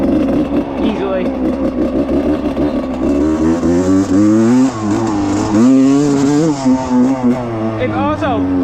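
A rebuilt 1995 Suzuki RM125 two-stroke dirt bike revs loudly and close, its buzzing engine note climbing and falling through repeated throttle blips with no pause.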